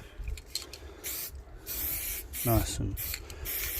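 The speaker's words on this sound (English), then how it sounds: "So I'm just going to spray the background in." An aerosol spray-paint can hisses onto a canvas background for a graffiti piece in several short, close bursts separated by brief gaps, and a voice speaks briefly.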